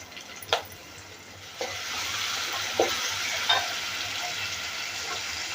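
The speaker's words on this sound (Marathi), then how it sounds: "आता आपल्याला टमाटर टाकून घ्यायचं आहे मी इथे टमाटर अर्धाच घेतलेला आहे तो टाकून घेते असा बारीक चिरून" Finely chopped tomato fries in the spiced tempering for fish curry, a steady, moderate sizzle with a handful of spoon-stirring clinks spaced through it.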